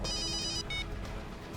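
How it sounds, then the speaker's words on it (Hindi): A telephone rings in a CID crime drama episode, giving one long electronic ring and then a shorter second ring over a steady, busy background of low room noise and music. "दया सर का फोन।"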